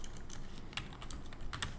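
Keys clack on a computer keyboard as a git command is typed, a quick run of separate taps with short pauses, close and fairly quiet, with no talking.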